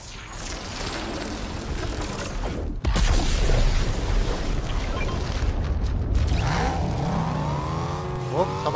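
A vehicle drives toward the player in Fortnite, a steady loud engine roar that swells slightly after a sudden thump near the start, with a rising whine and faint mechanical creaks toward the end.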